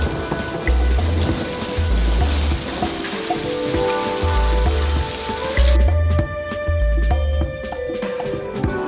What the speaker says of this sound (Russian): Вот такой град.